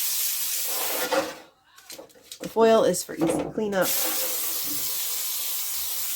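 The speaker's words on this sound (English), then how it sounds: "We're going to spray the baking sheet with non-stick spray" A steady aerosol hiss of non-stick cooking spray onto a baking sheet runs nearly throughout, broken midway by a brief spoken sentence before the spraying resumes.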